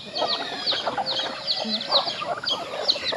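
Turkeys on a farm gobble and call in a busy overlapping flock, with chickens clucking among them, close and steady throughout.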